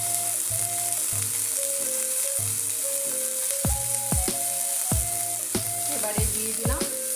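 Drumsticks (moringa pods) fry with a steady, loud sizzle in a pan, broken by repeated scraping and knocking as a spatula stirs them at close range.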